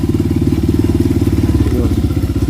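A restored motorcycle engine runs close and loud, a steady rapid thumping idle with an even pulsing rhythm and no voices over it.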